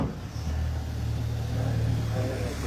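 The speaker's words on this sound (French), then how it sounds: "On va attendre que la voiture passe." A car rolling slowly along a narrow street in the medieval village of Yvoire, its low engine hum steady and close for a few seconds.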